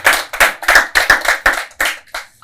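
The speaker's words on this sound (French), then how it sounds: "On applaudit cette jeunesse." A studio audience at a live talk show claps in a quick, even rhythm. About a dozen sharp, close handclaps come with short gaps between them, and no one speaks.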